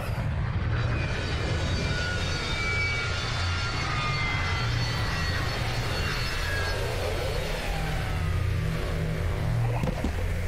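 Aircraft landing in Psychonauts 2, a steady loud engine roar with a broad whooshing rush that holds constant throughout, shifting tones sweeping across it as the craft comes down.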